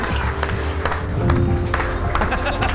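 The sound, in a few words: wedding guests applause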